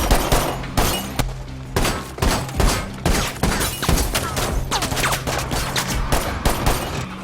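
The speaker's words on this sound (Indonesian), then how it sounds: "Tembak-tembakan pun terjadi." Rapid bursts of gunfire crack repeatedly in a loud, sustained shootout in the 2020 film Honest Thief, shots overlapping at an uneven pace.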